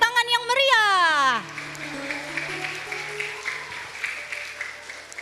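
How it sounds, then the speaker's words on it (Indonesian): Applause from an audience at a primary school extracurricular showcase, clapping that swells after a voice and continues as a steady patter under further talk. "Kasih tepuk tangan yang meriah."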